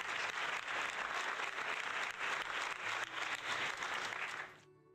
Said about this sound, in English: It's called the bonus applause because it's longer than the original.